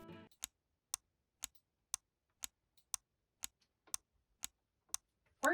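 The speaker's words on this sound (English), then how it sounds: "Where's that ticking sound coming from?" The ticking crocodile from Disney's animated Peter Pan: a steady, evenly spaced series of about ten crisp ticks, roughly two per second, standing alone in near silence between brief bursts of music or voices at the start and end.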